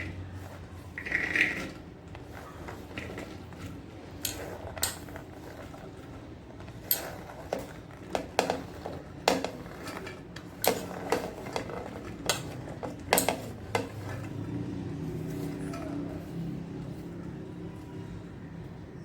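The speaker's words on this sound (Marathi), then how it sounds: "आपल्याला सर्व भाज्या या कुकरमध्ये घ्यायच्या आहे" Chopped vegetables for a bhogichi bhaji are tipped into a metal pressure cooker, producing scattered clinks, scrapes and rattles of pieces and a spoon against the pot, close and moderately quiet.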